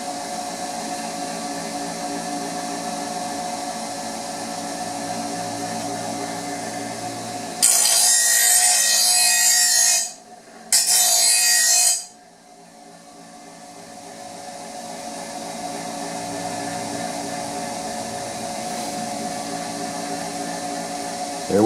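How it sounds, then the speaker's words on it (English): Bench grinder running steadily with a constant motor whine and hum, briefly masked by a loud hissing burst, then spinning down as its pitch and level drop before the hum resumes. "There's my bench grinder slowing down."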